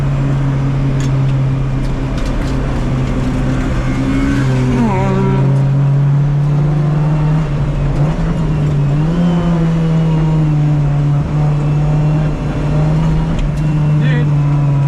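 Loud, close in-car engine drone from a 1988 Honda CRX Si with a B16A engine, pitch climbing and dropping through hard shifts as it's driven fast with tires squealing, voices talking over the steady roar throughout.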